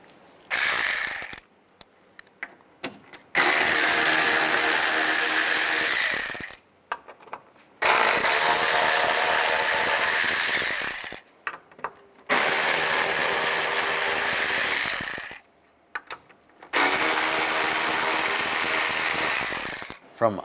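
A power ratchet with a T20 socket backs screws out of a trim panel on a Chevy Equinox, four long buzzing whirs separated by short quiet pauses, close and loud.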